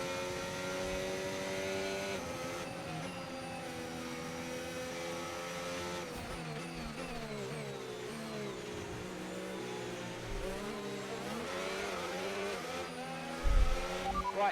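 Formula 1 car lapping the Las Vegas track in the F1 25 video game, a continuous high engine whine shifting up and down through gears, quiet and steady, with a brief thump near the end.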